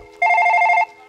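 A telephone rings with a single loud electronic trill lasting under a second, its warbling tone standing out clearly against a quiet background.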